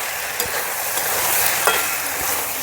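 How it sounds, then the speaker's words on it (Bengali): Chili powder, cumin and chopped tomato stirred together in a frying pan for a village-style small-fish chorchori, a soft sizzle under a few spoon scrapes and taps, close and alone. "সামান্য একটু শুকনো লঙ্কার গুঁড়ো, 1 চামচ জিরের গুঁড়ো, আর টমেটো কুচি ভালো করে মিশিয়ে নেব"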